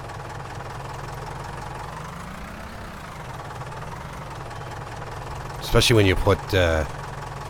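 A tractor hooked to a heavily loaded seeder runs with a steady low engine drone and knocking rumble throughout, close by, before a voice speaks briefly over it near the end.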